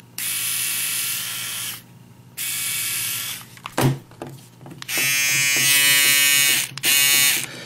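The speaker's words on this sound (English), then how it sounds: "And compare that to my Philips Norelco." A Philips Norelco electric shaver buzzes in several bursts separated by short pauses and clicks from handling, each run a loud, steady whirring hum.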